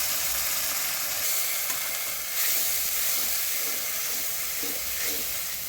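Garlic paste, then ginger-cumin paste, fries in hot oil for a baim fish bhuna, giving a loud, dense, constant sizzle with soft stirring scrapes through it.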